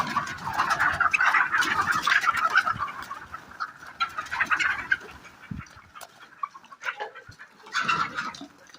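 Desi hens and chicks cluck steadily nearby, a busy overlapping chorus with a few louder squawks and short pauses.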